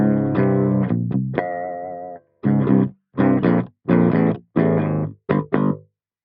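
Clean electric guitar played through a NUX solid-state amp with an OMG preamp and Lichtlaerm LCRF 150 impulse response, distortion off: a strummed chord, a sustained ringing note, then a run of short choppy chords with gaps, loud and alone.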